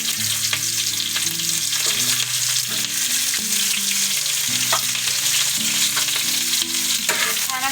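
Sliced onion frying in hot oil with mustard seeds and cumin, a continuous close sizzle with occasional stirring clinks, and music playing in the background.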